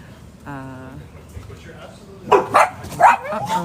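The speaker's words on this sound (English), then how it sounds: "doggy's barking" A dog barks a few sharp times in the second half, loud and close, after a brief tonal sound and some background noise.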